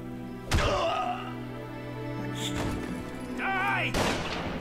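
Gunshots in the Valkyria Chronicles video game: a sharp report and a couple of later shots over a steady game soundtrack, mixed with short in-game voice shouts.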